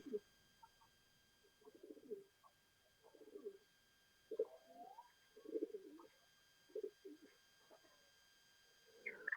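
Pigeons cooing in a loft, a repeated series of soft throaty coos at an even pace, quiet and fairly close with a faint steady hum behind.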